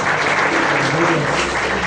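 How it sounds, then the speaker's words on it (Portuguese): A church congregation gathered for a home service applauds, many hands clapping in a dense, loud, continuous wash that holds steady for about two seconds, with a faint murmur of voices beneath. "Pode aplaudir o Senhor."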